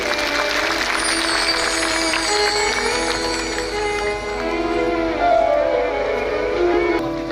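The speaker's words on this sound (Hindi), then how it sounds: "एक बार जोरदार ताली हो जाए" An audience claps loudly and steadily through a Shiv Mahapuran katha, a Hindu religious discourse held in Sambhaji Nagar, Maharashtra, with tonal music sounding beneath the sustained applause.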